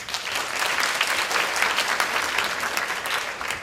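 Steady, dense applause from a conference workshop audience, a continuous wash of clapping that stays loud and even throughout.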